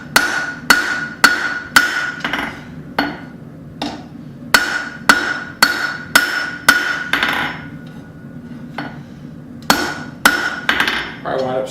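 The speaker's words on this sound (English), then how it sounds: "Probably wind up switching hammers here." A blacksmith hammers hot steel while forging a Bowie knife, sharp ringing metallic blows in quick bursts of several strikes with brief pauses between, loud and close at the anvil.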